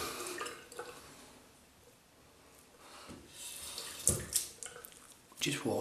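Tap water runs and splashes at a bathroom sink during a shave with soap and a badger brush, faint and intermittent, with louder bursts of splashing near the end.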